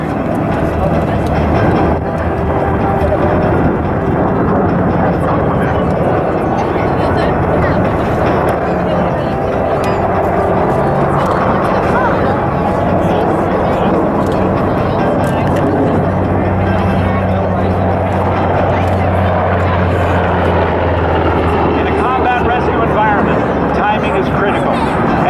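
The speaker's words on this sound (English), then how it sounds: "helicopters comes to a hover" A heavy, continuous military helicopter rotor and engine roar drones throughout as it hovers for a rope rescue demonstration at an Arizona air show, loud and close, with talk underneath.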